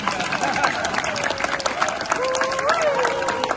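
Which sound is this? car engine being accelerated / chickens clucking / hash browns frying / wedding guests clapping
wedding guests clapping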